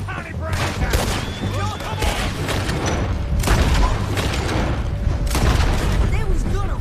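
Rapid bursts of gunfire and heavy booms crackle through a Red Dead Redemption 2 shootout, loud repeated volleys in waves, with shouting voices mixed in.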